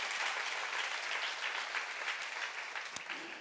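Church congregation applauding during a sermon, a dense, even wash of many hands clapping at moderate distance, steady throughout with a faint thump near the end.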